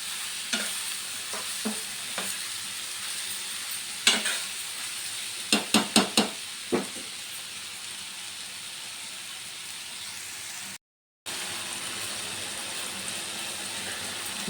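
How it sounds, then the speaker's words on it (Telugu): Large pieces of ridge gourd frying in oil, a steady even hiss with a few sharp stirring clicks and scrapes in the middle and a short cutout near the end, no speech. "బీరకాయ ముక్కలు ఆయిల్లో వేయగానే తొందరగా మగ్గిపోతాయండి"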